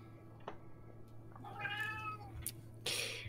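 A pet cat meows once in a drawn-out, wavering call midway, with short faint clicks before it and a brighter noisy burst near the end, all quiet against a low steady hum.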